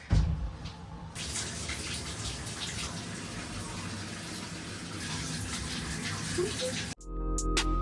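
A tap runs warm water in a steady gushing stream into a basin for several seconds, close and even, then is shut off near the end with a short clunk and some handling noise.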